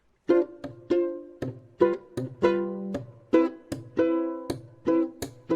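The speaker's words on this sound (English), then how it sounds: "one of the other most important ones to know maybe is the Charleston Rhythm" Short, syncopated chord stabs on a plucked string instrument repeat in a bouncy Charleston rhythm, each chord ringing briefly before the next, with no talking.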